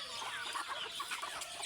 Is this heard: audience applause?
no